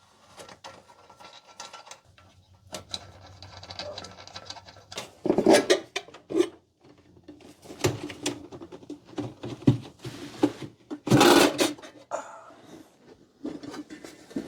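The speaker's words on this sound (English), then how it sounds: "So we're going to start by taking off the air cleaner." Hands removing the air cleaner from the engine of a 1993 Chevy Blazer: intermittent close plastic and metal clunks, scrapes and rattles with a few louder knocks, separated by quiet pauses, no talk.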